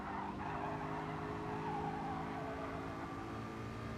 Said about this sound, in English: More tyre squeal